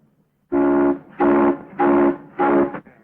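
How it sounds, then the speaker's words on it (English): Steam locomotive whistle from a 1929 Western, four loud sustained blasts in quick succession, each about half a second long, heard alone and close. "You blow that whistle again, and I'll blow you right out of that cab."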